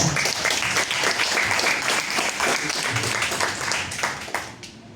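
Sustained audience applause fills a congress hall to welcome a speaker at a national conference, dense and even for several seconds before tapering off at the end.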